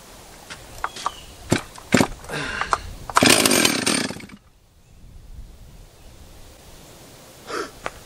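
A Stihl 036 MS360 chainsaw, a barn find under revival, sputters on choke with several sharp pulls before catching in a brief loud burst of engine noise, then dies to quiet and one more pull.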